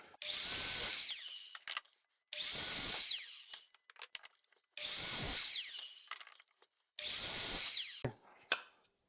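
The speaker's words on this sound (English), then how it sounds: "We're back at the miter saw." A miter saw cuts through wood in four loud, separate bursts of about a second and a half each, with brief quiet gaps and small clatters between the cuts.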